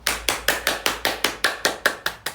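About a dozen evenly spaced hand claps from a single nearby person, crisp and steady, applauding the staff team at the close of a Christmas party live stream.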